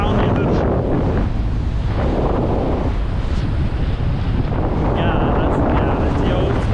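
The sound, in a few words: strong wind gusts while flying a 15 m² kite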